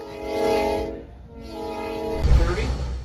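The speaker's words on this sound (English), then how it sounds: "Deep snow's no problem for this train." A train horn sounds loud and steady, cutting out briefly and then resuming, over a rumbling rail engine as the train pushes through deep snow.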